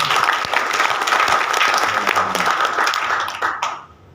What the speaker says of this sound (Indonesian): Kasih tepuk tangan buat anda semuanya.